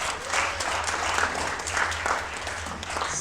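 A conference audience of alumni claps together, a dense, steady wash of applause that stays full and even for a few seconds without letting up.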